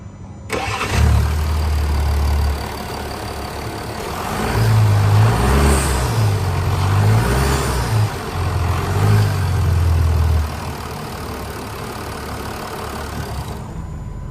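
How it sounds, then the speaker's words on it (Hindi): A 2022 Range Rover Autobiography LWB's 3.0-litre diesel engine cranks and fires up close by, revs a few times in uneven bursts, then drops to a steady rumbling idle. "आइए डीजल इंजन की साउंड सुनते हैं।"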